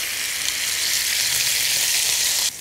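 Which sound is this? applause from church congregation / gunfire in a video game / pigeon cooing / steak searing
steak searing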